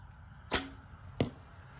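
Two arrows shot from a recurve bow, each a sharp close snap and whoosh, the second about 0.7 seconds after the first, with no talking.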